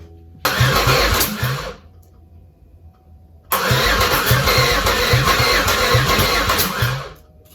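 A Chevrolet Malibu engine cranks over without catching. Two loud bursts of rhythmic, pulsing cranking, one short and one longer, are separated by a quiet pause.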